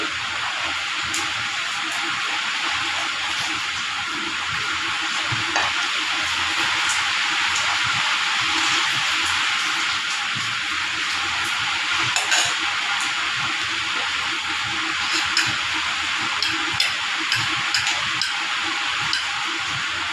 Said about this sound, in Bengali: কাঁকরোল ভর্তার জন্য আমি এই শুকনো মরিচগুলি সর্ষের তেলে ভেজে নিব